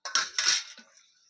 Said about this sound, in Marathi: मसाल्याचा डब्बा जाऊ दे जागेवर.